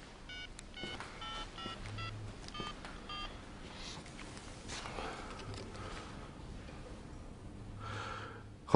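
A telephone is dialed in a Polish feature film scene, heard as a rapid series of short electronic keypad tones, fairly quiet, followed by faint breathing and low background noise.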